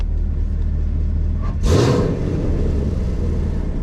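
Chevrolet Camaro SS exhaust set to stealth mode: a steady low engine rumble with a brief rising whoosh as the car pulls away, then a muted, even drone, no talking.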